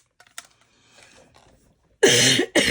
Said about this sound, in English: Cough, cough, cough.